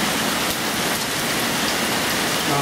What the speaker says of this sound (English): 5 minutes of rain, an inch already, or more.